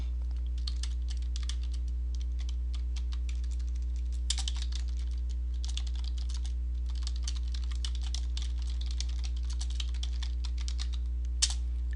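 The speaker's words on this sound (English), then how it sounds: "now that we've typed it in" Typing on a computer keyboard, quick irregular key clicks in bursts with short pauses and a couple of harder strikes, close, over a steady low electrical hum.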